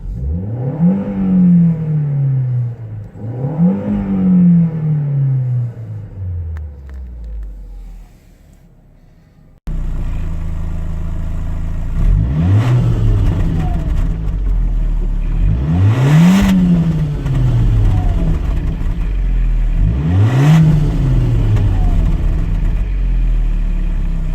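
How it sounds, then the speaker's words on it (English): A 2001 Audi A4 Quattro engine is revved repeatedly, each blip rising sharply then winding back down; two quieter revs come first, then several louder ones over a steady idle. "It is a relatively free revving engine"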